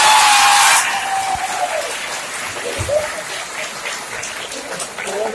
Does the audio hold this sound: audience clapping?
yes